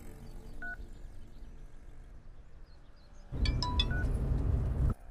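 Telephone keypad dialing tones, a quick run of distinct beeps at close range after a quieter stretch with a single earlier beep, amid faint room noise.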